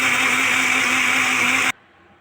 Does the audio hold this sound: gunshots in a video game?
no